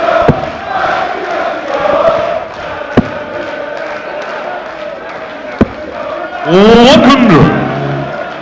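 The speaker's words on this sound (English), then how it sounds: "The crowd are getting noisier." A darts crowd at the German Darts Masters growing noisier, a dense roar of voices with occasional sharp thuds, swelling into a louder burst of shouting and whistles near the end.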